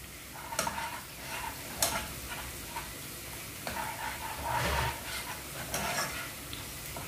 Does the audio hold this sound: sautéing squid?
yes